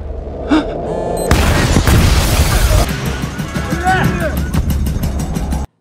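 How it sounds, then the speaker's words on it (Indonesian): A loud explosion from The Terminal List series destroys a room, a sudden heavy boom and roaring blast that cuts into dramatic music and rumbles for a couple of seconds before settling back under the score. "terjadilah ledakan yang menghancurkan ruangan Laksamana pilar beserta isinya"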